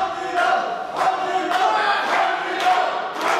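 A crowd cheers and shouts at a Gladiators bout, with repeated surges of roaring from the audience rising and falling over several seconds.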